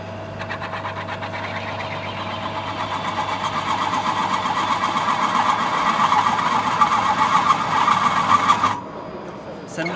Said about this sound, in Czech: teď tady budeme v podstatě brzdit tuto hřídel standardním ložiskovým válečkem